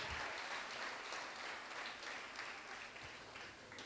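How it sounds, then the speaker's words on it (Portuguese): A church congregation applauds for visitors, a soft, distant wash of clapping held evenly for a few seconds. "É possível a igreja aplaudir o Senhor Jesus Cristo pela vida dos visitantes?"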